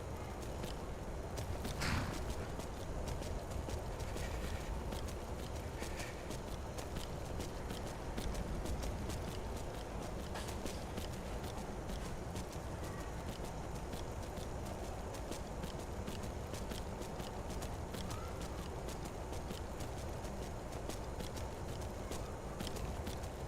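Steady clip-clopping of horse hooves at a walking pace in the video game Skyrim, over a constant background rumble, with no one speaking.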